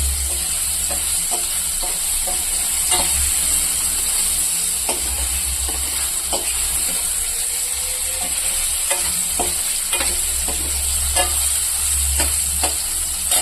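Paneer fries in oil with ground pepper, giving a steady, loud sizzle and hiss, while a utensil stirs and taps against the pan in irregular clicks throughout.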